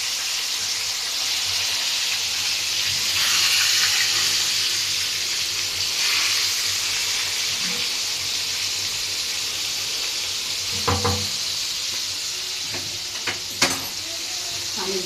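Breaded panee cutlets fry in oil in a home kitchen pan, giving a steady broadband sizzle that holds through the clip, with a few sharp clinks and taps near the end.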